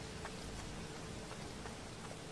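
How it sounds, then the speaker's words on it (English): Steady rain in the game Pineview Drive, a dense even hiss of falling drops across the whole stretch with no voices. "And it's raining. Here comes the storm."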